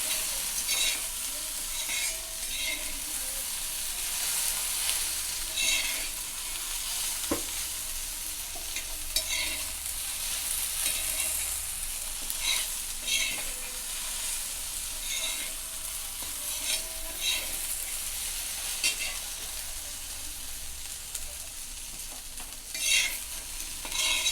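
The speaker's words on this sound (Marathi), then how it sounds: "आपल्याला पाच मिनटं अशीच भेंडी हलवायची म्हणजे शिजली जाते" Okra stirred and fried in oil in a pan, a continuous close sizzle carrying steadily for over twenty seconds, with frequent scraping from the stirring utensil.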